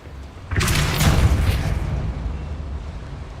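A Depulso spell cast in the wizarding game Hogwarts Legacy: one sudden, loud, whooshing blast that swells and fades over about two seconds.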